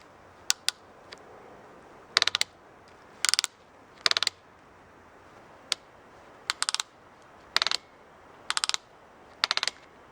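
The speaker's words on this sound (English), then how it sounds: "while the chain does work, despite its kind of decrepit, rusty appearance, it's pretty stiff and clunky" A stiff, rusty chain on a 1999 Specialized Hardrock rigid mountain bike gives short bursts of sharp metallic clicking and clunking, repeated in quick clusters of ticks at close range against a quiet background.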